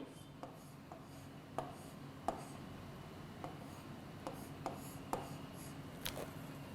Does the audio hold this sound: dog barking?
no